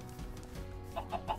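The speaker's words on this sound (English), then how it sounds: "there's chickens in there." Chickens clucking in modded Minecraft (All The Mods 8, version 1.19.2): a few short, moderately loud clucks in quick succession toward the end, over a low steady game background.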